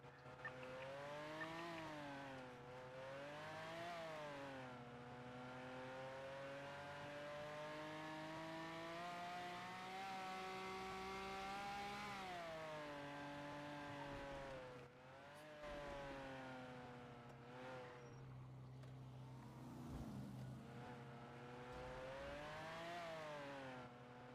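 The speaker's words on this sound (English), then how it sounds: "Oh my god, this sounds like a Lambo." A Pegassi-style overpowered sports car engine in a driving video game roars at high revs for the whole stretch, rising and falling pitch as it accelerates and shifts, loud and continuous with a brief dip mid-way.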